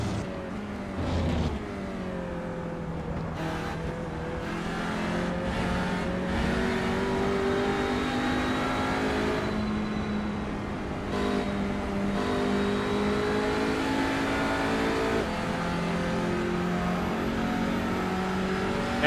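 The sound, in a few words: TCR touring car engine and throttle in iRacing video game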